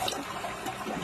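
Universal-Rundle 4490 toilet (6.0 lpf / 1.6 gpf) flushing with a new flapper, a steady close rush of swirling water filling the whole moment without pause.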